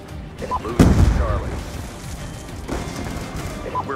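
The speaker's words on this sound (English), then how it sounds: "Grenade!" A grenade blast in Call of Duty Black Ops 2 booms sharply near the start and rumbles off, with gunfire and a voice talking over the game sounds.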